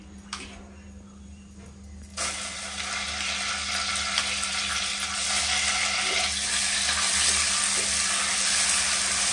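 Butter dropped into melted sugar for a homemade birthday cake caramel sets off a sudden loud sizzle after a quiet start. Steady frying and stirring bubble continuously afterward, close up, with no talking.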